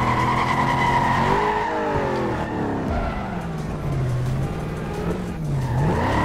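A Corvette in the racing game Need for Speed Carbon roars with a continuously loud engine whose pitch rises and falls, mixed with drawn-out tire squeal as it skids, with no talking.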